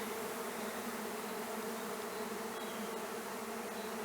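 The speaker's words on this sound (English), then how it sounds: "is swarming with orienting bees" A dense, steady buzz of many honey bees swarming close by, orienting bees droning continuously without pause.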